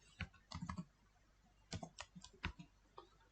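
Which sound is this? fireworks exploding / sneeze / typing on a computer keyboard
typing on a computer keyboard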